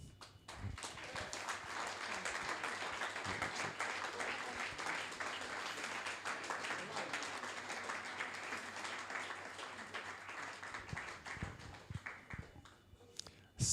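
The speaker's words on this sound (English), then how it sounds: "Still applauding the CEO." A forum audience applauds QPR CEO Lee Hoos at a QPR Fans' Forum, with sustained, dense clapping from a crowd that keeps going steadily for about eleven seconds before thinning out.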